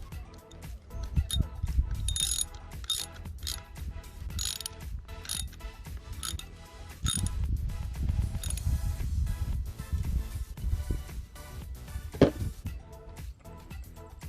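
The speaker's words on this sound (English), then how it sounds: "then you put the nut on the other side, and then use the 12mm socket wrench." A 12mm socket wrench ratchets a nut tight on a pedal kit, giving quick, close metallic clicks in uneven bursts over light background clatter.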